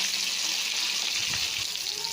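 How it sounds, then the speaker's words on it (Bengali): Fish frying in hot oil in a pan produces a steady hiss and sizzle that stays close and even throughout, with faint low bumps beneath and no clear talking. "ঠিক এইভাবে সব মাছগুলো ভেজে নেব"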